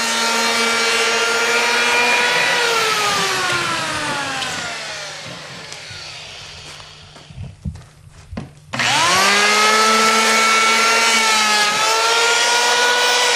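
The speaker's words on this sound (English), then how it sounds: "take a hand planer set on about 1/16" Electric hand planer flattening a glued-up wood blank, a loud close whine that winds down as the cutter slows, a few knocks and handling sounds, then a sudden restart at full speed for another pass.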